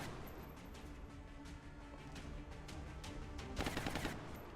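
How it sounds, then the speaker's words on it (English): A heat grenade detonates in the XCOM Long War strategy game. A quiet rattle of gunfire-like clatter runs throughout, and near the end a sharp, harsh burst stands out before fading. "this is a heat grenade"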